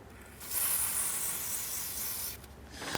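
A short burst of spray from a can of garage lube hits the exhaust of a BMW F10 M5 in a garage: a steady, fairly quiet hiss lasting about two seconds, then cutting off.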